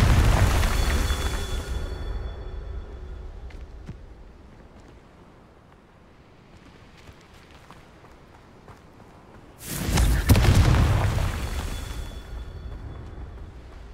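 Two big fiery blasts of the Confringo spell in Hogwarts Legacy: a loud booming eruption that decays over a few seconds into faint rumbling and footsteps, then a second sudden explosion bursts out near the end.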